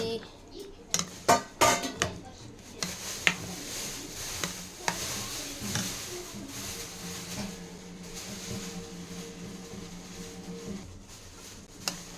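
Curd bajji being mixed in a bowl, with a run of sharp utensil clinks against the bowl early on, then softer continuous stirring and scraping, while people talk.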